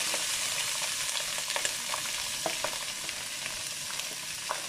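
Beef pieces fry in hot oil for beef chilli, giving a steady, bright sizzle with small crackles and pops throughout, close and even, with no talking.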